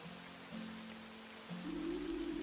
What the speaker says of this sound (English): I told you it was gonna rain.